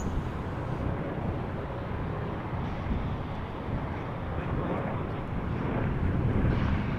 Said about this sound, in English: And a 747 landing on 18C.